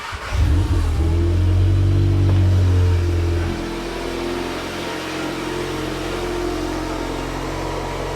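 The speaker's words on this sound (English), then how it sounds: "let's see what happens when I start the car." A VW Golf R Mk7.5 engine cranks and catches with a loud rev, then drops to a steady, lower idle hum that continues to the end.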